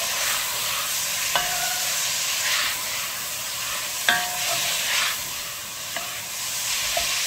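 Onions fry in a pan for a carbonnade stew, a steady bright sizzle running throughout while a wooden spoon stirs and scrapes, with several distinct knocks against the pan.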